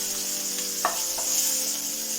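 Ginger and green chillies sizzle in hot oil for bun dosa, a steady close crackle with a couple of brief stirring scrapes and no talk.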